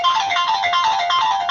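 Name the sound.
phone ringtone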